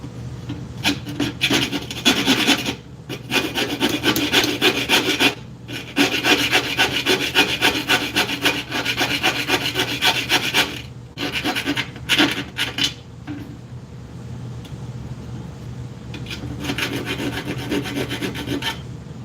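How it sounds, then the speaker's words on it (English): A file rasps burrs off a modded 1x4 lid in long, loud, rhythmic back-and-forth strokes, close up, with brief pauses and a lighter, quieter stretch of filing toward the end. "Trying to get all the burrs out of it now."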